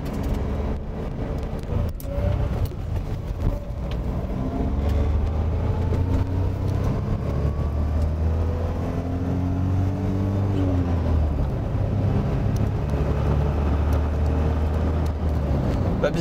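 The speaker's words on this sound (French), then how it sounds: "Fait une sorte de bruit de roulement par-ci par-là." A Suzuki Cappuccino recovered from a flood is driven on the road: steady engine drone and tire roll from inside the car, with gear-change shifts in pitch and faint talk underneath.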